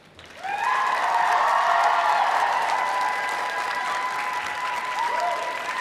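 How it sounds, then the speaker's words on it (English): Graduating class at an ECU convocation ceremony applauding their families, friends, faculty and staff: a dense, sustained wash of applause from a large crowd that swells quickly and holds steady for several seconds, with a faint tonal hum running underneath. "I'd like to invite you, the members of the graduating class, to reciprocate by applauding your family, friends, faculty and staff"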